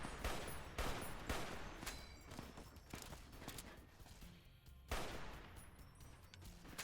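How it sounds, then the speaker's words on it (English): Gunfire in Fallout: New Vegas, a rapid, uneven volley of sharp cracks, loud and close, with a brief lull before another burst of shots. "I have a feeling those bullets are going all over the place"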